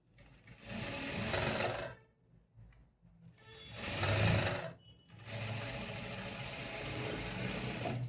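Sewing machine stitching blouse lining fabric, three bursts of fast close whirring stitches separated by short quiet pauses, the last run the longest.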